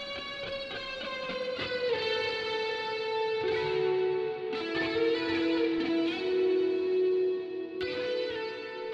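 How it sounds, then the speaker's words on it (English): Mixed electric guitar part with added reverb and effects, from a High School Musical 3 song production, sustained chords and melodic lines ringing together with a smeared, spacious tail, steady and fairly full throughout. "this is how the guitar is going to sound like when I've done some mixing to it"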